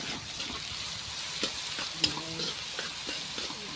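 Spaghetti sauce with onion and garlic stirred in a pan sizzles steadily up close, with rhythmic scraping strokes and one sharp metallic clink midway.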